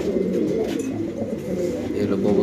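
A Spanish pigeon coos in a continuous low rolling murmur, close by, while someone talks quietly over part of it.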